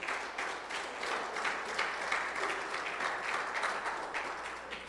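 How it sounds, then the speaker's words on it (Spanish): A church congregation claps during a Spanish-language sermon, giving sustained, dense applause from many hands that keeps an even level for about five seconds, with no voices over it. "Dele fuerte palmas al Señor."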